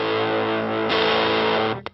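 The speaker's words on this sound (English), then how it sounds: "does it every time with the distortion." An '80s Cort Effector electric guitar, whose built-in distortion comes on after a delay when switched on, sustains a loud, fuzzy chord that swells brighter midway, then drops out into a couple of short choppy strums.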